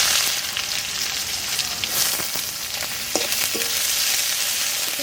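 Onions fry in hot oil in a pan with bay leaf, dried red chillies and cumin, giving a steady close sizzle with occasional stirring scrapes and crackles.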